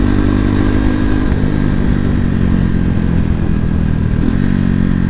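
KTM RC390 motorcycle running with its exhaust removed, a loud, raw, continuous engine drone with harsh rattly texture and a slight pitch shift near the end, very close.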